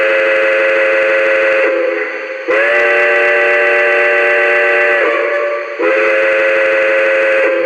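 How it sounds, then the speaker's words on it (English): Loud, sustained model steam train whistle sounding three long blasts with brief dips between them, chord-like and steady, with no talk. "the whistle is the best feature on this"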